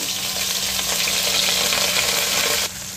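A tempering of garlic, cumin and curry leaves crackles in sesame oil for a country chicken curry, a loud, dense, even sizzle that drops away abruptly just before the end.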